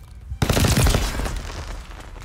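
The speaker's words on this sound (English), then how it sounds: "the wall gun seems to just have the fireworks one." Rapid automatic gunfire from a wall gun with a fireworks tracer effect in a shooter video game, a loud close burst of shots that trails off into a crackling, decaying echo.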